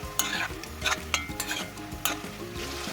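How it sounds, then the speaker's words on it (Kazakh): Meat with tomato paste sizzles hard in a pan over high heat while a utensil stirs it in quick, repeated scraping strokes, close and clear. "Бір-екі минут қатты отта қуырамыз."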